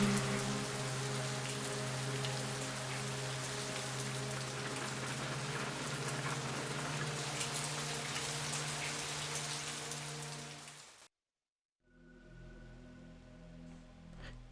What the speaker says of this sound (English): It is always raining here. Whenever I hear the sound of the rain